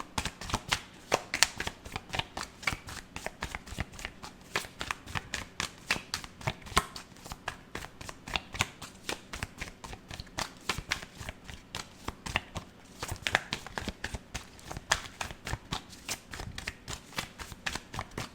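Tarot cards being shuffled by hand, a steady rapid riffling and flicking that runs continuously for the whole stretch, close and fairly soft with no voices.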